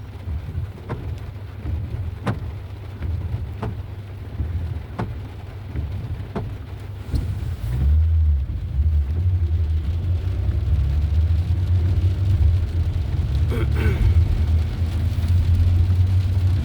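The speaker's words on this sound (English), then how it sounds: "the way that it's raining and the way the traffic is" Road traffic rolls past in steady rain around Garland and Richardson, a continuous low rumble of tyres on wet pavement with rain noise, swelling louder in the second half as a vehicle passes close.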